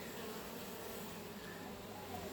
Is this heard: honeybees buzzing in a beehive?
yes